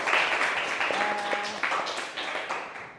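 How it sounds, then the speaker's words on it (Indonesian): A classroom of children applauds a student after her presentation during a teaching session at an Indonesian school, brisk, dense clapping fading gradually over a few seconds, with a brief tonal voice or hum sounding within it. "tepuk tangan lagi buat Mita ya"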